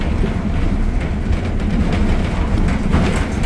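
Train cars pulled by a steam locomotive roll along the rails with a loud, close, continuous rumble and rattling clatter, and no voices over it.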